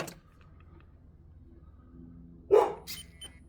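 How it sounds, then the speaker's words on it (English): A neighbour's dog barks from next door, one distinct bark followed by a fainter second yip, fairly distant over a quiet indoor background. "the annoying dog next door has just not stopped barking"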